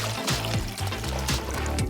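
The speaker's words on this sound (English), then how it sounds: "Add a little water." Water poured over popcorn kernels in a popcorn maker, a steady close trickle and splash with small bumps of the container throughout.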